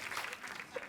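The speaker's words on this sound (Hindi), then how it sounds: "तो एक बार जोरदार तालियां हो जाएं पूरी मिर्जिया की कास्ट के लिए" A studio audience at a comedy talk show claps for the Mirzya cast, a soft, fairly distant patter of applause with a voice briefly mixed in.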